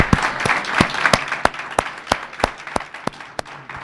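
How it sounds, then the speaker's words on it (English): An audience at a lunch-and-learn panel on understanding violence applauds the panelists. A few loud, evenly spaced claps stand out over a softer patter of clapping that gradually thins out. "Round of applause for our panelists."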